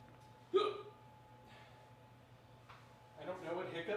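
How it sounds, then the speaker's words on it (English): One sharp, sudden hiccup bursts out during a barbell squat workout, followed by a quiet pause and then a person talking. "it's kind of interesting to be getting hiccups"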